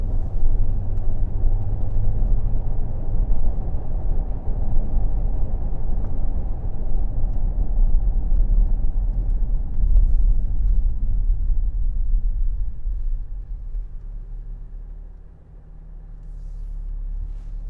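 Range Rover Sport Black Edition driving on a road in dynamic mode, a steady loud low engine and tyre rumble throughout that eases and dips near the end.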